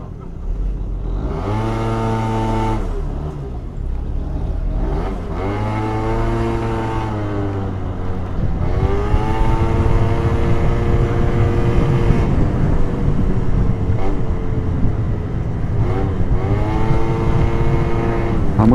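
A Peugeot Speedfight 4 two-stroke fuel-injected scooter accelerates repeatedly, its buzzing engine note climbing in pitch with each pull before dropping, with wind rush building as it rides on.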